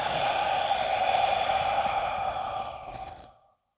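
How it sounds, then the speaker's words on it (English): A long, steady breath exhaled during a qigong exercise, close and airy, lasting several seconds before tailing off into silence, with no talking. "Exhale."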